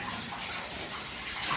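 Canal water pours steadily down into a storage reservoir at an NTPC power plant, a dense, continuous rushing and gushing that fills the whole moment without pause.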